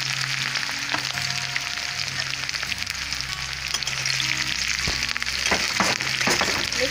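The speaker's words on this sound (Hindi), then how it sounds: "अब इसे स्लाइस किया हुआ प्याज डाल देंगे" Sliced onions frying in hot oil in a pan for a jackfruit curry, a steady broadband sizzle that runs throughout with a few clinks and stirring knocks near the end, no talking.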